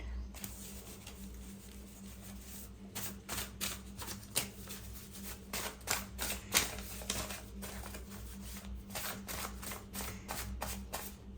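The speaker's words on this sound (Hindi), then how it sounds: "ओके, काफ़ी शफल किया है हमने" Tarot cards being shuffled by hand, a run of rapid riffling flutters and soft slaps close to the microphone, quiet overall and building in bursts, with no one speaking.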